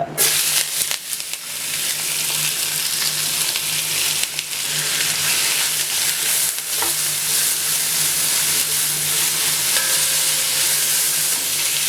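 Onions drop into hot oil with garam masala for a Pakistani chicken rara and fry with a loud, dense, continuous sizzle and hiss, with a few scraping stirs.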